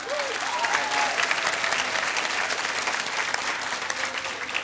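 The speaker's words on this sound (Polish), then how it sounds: "brawa dla Izy." A studio audience on a Polish television show applauds a guest's birthday, a loud, continuous dense patter of many hands clapping without a break throughout.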